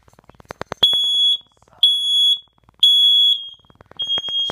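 Nest smoke and carbon monoxide detector sounding during a test: loud, piercing electronic alarm tones in repeated long beeps with short gaps, preceded by a faint ticking pulse.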